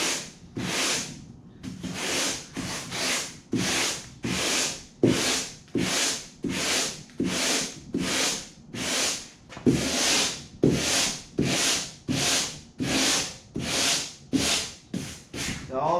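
Foam edges of a homemade 11 ft foam-and-fabric kayak are sanded by hand in continuous, rhythmic back-and-forth strokes, roughly one per second, close and hissy throughout with no talking.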